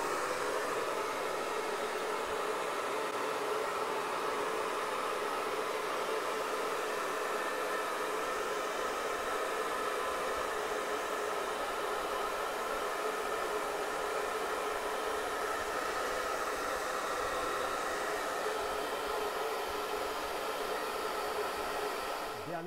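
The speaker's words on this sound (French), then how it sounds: "on va donc maintenant remettre le sèche-cheveux en route" A hair dryer runs continuously, a steady loud broadband whoosh of blowing air that holds even for the whole stretch and cuts off right at the end, with no talking.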